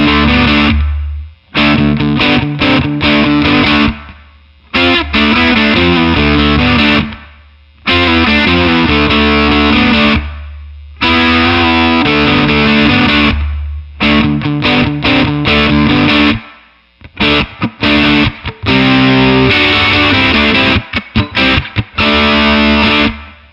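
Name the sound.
guitar through Mesa Boogie California Tweed, bass up, fuzz tone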